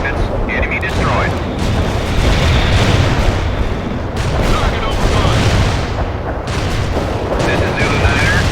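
In World in Conflict, dense artillery fire and shell explosions rumble in continuous booming waves. Heavy blasts overlap, and radio chatter runs beneath them.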